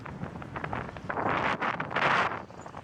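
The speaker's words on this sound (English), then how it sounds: "You can see by looking at Kimmy, the gusts are getting pretty good now, because my hat was getting ready to fall off." Gusty wind at a beach during Hurricane Matthew buffets the microphone in rough surges, swelling louder toward the end, with no voices.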